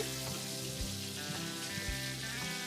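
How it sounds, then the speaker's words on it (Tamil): Onions, green chilies and curry leaves fry in a pan with an even, continuous sizzle and faint crackling pops, steady and close with no talking. "நல்லா ஃப்ரை பண்ணிக்கலாம்."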